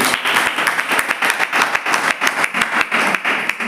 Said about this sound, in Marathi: आपण जोरात टाळ्या वाजवून प्रभू येशूला धन्यवाद देऊया